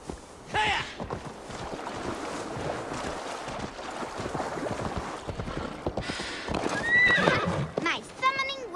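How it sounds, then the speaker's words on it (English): A summoned horse in Assassin's Creed Valhalla whinnies several times, with clip-clop hoofbeats and ambient game sounds beneath; it ends on a rising neigh. "My summoning worked. Your horse is a little unsettled, but safe."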